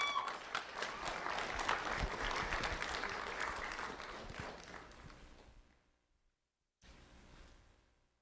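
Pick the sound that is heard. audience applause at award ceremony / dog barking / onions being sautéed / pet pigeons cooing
audience applause at award ceremony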